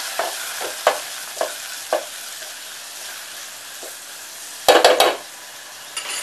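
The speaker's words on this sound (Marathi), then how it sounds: "कढीपत्ता, कांदा, टोमॅटो छान परतून घेऊया." Curry leaves, onion and tomato sautéing in a pan, a soft continuous sizzle punctuated by several sharp spoon taps and a loud clattering stir burst near the end, no talking.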